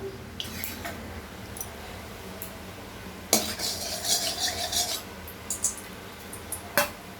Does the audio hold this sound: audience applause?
no